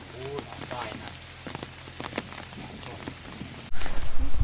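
Rain falls steadily on a durian orchard, a dense patter on leaves and surfaces with scattered louder drops, ending in a few heavy close knocks.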